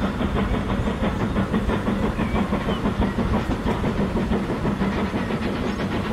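A train in the rail-building game Transport Fever 2 rumbles along steadily, its wheels clicking in a fast, even clickety-clack rhythm over a constant loud engine drone, with no voices.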